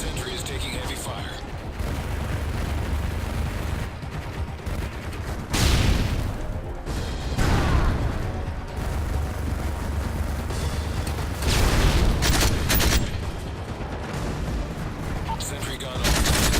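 Sustained automatic gunfire and explosions rage around a deployed sentry gun in Modern Warfare 3, dense overlapping bursts running nearly continuously with several louder surges.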